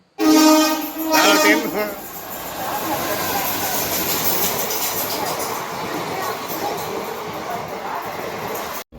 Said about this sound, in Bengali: এই আমাদের ট্রেনে উঠলাম আর অনেকটাই লেট করেছে